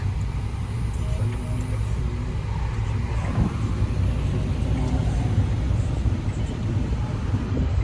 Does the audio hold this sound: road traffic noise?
yes